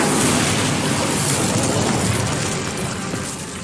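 Incendio fire spell cast in Hogwarts Legacy, a loud roaring whoosh of flame that bursts at once and sustains as broad crackling noise before slowly easing off.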